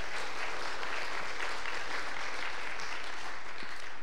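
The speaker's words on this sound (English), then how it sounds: "give these guys a round of applause" A church congregation gives a round of applause, a steady, dense wash of clapping filling the room from start to finish with no voices on top.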